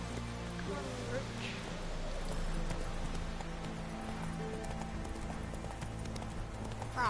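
Horse hooves clip-clop steadily in The Witcher 3: Wild Hunt as the rider urges the mount on, a continuous trotting rhythm over a bed of game ambience and music, with a brief whinny possible.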